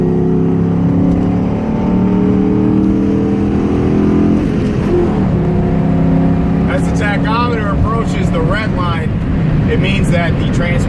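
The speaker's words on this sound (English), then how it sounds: "I have to match the engine speed with the transmission speed by applying throttle while" A 2004 Mustang engine revs during a rev-matched downshift, a loud sustained drone that swells and shifts pitch, with someone talking over it in the second half.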